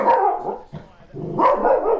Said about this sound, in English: There's the quiet dog, now defending his territory.